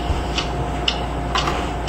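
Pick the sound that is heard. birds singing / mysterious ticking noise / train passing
mysterious ticking noise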